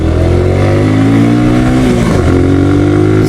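A Suzuki Gixxer motorcycle engine revs hard in first gear, loud and close, its pitch climbing steadily before dropping sharply and climbing again.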